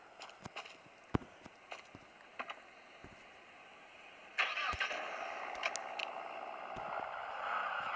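Car Simulator 2 game audio: scattered clicks and thuds of getting into a car, then a steady engine hum starts up midway and runs on to the end, fairly quiet.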